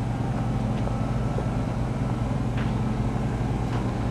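A 700 HP NRE engine in an Ultra 4 off-road race car idles with a dense, steady low rumble and faint irregular ticks, close and loud throughout.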